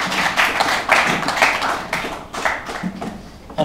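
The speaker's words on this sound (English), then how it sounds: "Shall we give it a round of applause?" An audience applauds with dense, continuous clapping throughout at a ceremony at Samoa College, fairly loud and close.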